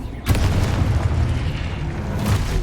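A Confringo blast curse goes off in a video game with a booming burst, followed by a sustained rumbling roar and a second swell of blast noise near the end.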